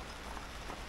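Rain pours down at a boat yard, a steady broadband hiss of drops hitting surfaces, loud and continuous with no talk over it.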